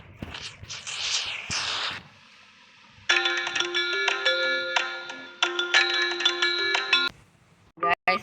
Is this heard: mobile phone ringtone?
yes